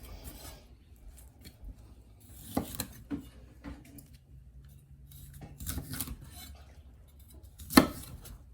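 A knife cuts off fibrous vegetable stems on a board in a handful of crisp, separate chops and crunches, with a sharp final cut near the end, close up and quiet between strokes.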